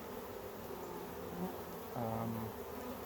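Honey bees buzz steadily in an open hive during an inspection, a dense close drone with a few louder individual bees passing near.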